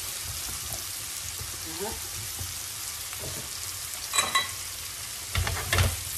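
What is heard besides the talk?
pears poured into pan, sizzling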